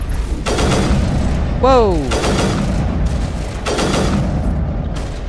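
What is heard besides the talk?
burst sniper rifle shots in Mass Effect Legendary Edition video game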